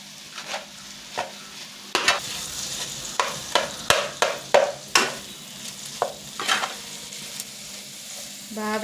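Chicken fried rice frying in a pan gives a steady sizzle, broken by about a dozen sharp clacks and scrapes of a spatula stirring at an uneven rhythm, close and fairly loud, with no talking.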